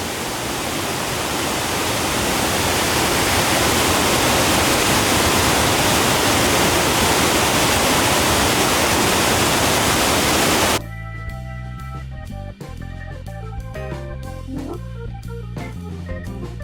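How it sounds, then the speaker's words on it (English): A loud, steady rush of falling water from Sable Falls near Lake Superior roars close by for about ten seconds, then cuts off abruptly to quieter background sounds. "I like recording the sound of the water."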